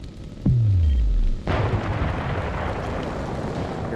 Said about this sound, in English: Your bombs are gonna miss. You fired them too far out.